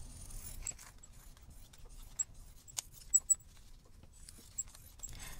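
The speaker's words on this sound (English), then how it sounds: "My poor scissors are just squeaking away." Scissors cutting fabric for a no-sew kimekomi ornament, heard close and quiet as a few short, high squeaks and soft snips spaced irregularly over faint room noise.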